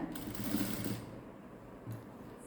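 A sewing machine stitching the edge of a blouse neckline, a brief run of fast mechanical whirring, then a quieter pause and a short second burst, fairly faint.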